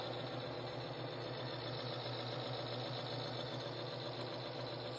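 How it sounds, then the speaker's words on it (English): A Timken NNL 690 bearing test machine runs steadily at close range, a continuous faint mechanical hum and whir with no one speaking. "We're going to turn the machine back on."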